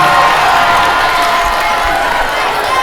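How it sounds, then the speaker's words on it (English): A school assembly audience of seventh and eighth graders bursts into loud, continuous cheering and clapping, a dense, close roar of young voices shouting and whooping that fills the whole moment. "Let's give them a round of applause."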